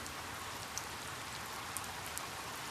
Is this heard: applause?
no